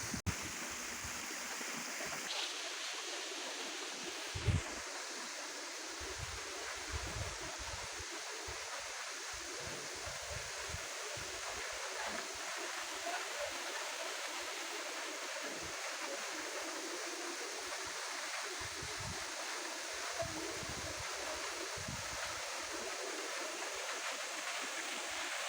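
Water from a waterfall and stream at Dereova rushes in a constant broad roar, steady and enveloping throughout, with a few faint knocks and no talk.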